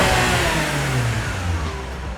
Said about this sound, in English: one simply blips the throttle and they're greeted by one of Maranello's finest soundtracks